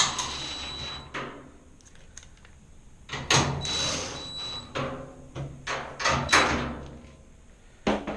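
Two screws driven in one after another to secure a panel on a GE washing machine, a series of clicks, scrapes and short knocks from close by with quiet gaps between them.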